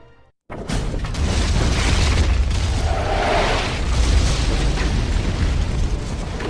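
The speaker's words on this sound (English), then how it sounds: "It explodes on contact. Sort of works along the same lines as a grenade in that way." In the video game Advent Rising, a weapon projectile explodes on contact with a loud, sudden boom that swells into a long, rumbling roar and dies away slowly.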